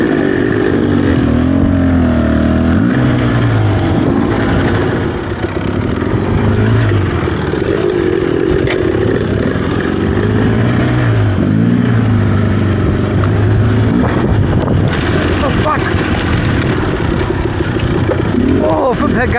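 Off-road two-stroke motorcycles, a Beta 300RR and a KTM 300XC, rev and rise and fall in pitch on a highland trail, loud and close, with people talking over the engines throughout.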